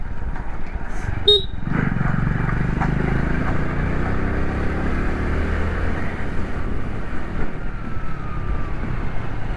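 Motorcycle ride on a trip toward Pondicherry, with a steady engine drone and heavy wind rush at the microphone throughout, close and continuous.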